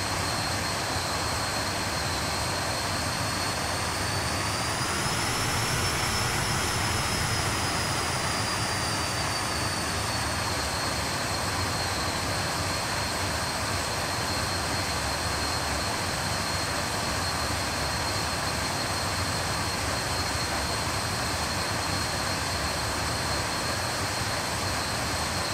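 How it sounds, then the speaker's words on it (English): Jet airliner engines in the Quality Wings 146 flight simulator game, taxiing with a steady, loud, broadband roar and a high whine that rises slightly early on and then holds. "So at the moment we're taxiing out to runway 11 via the military taxiways"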